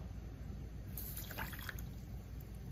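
Half a glass of water is poured into a pan with a cup of sugar to make syrup, a faint, brief trickle and splash heard under a steady background hiss.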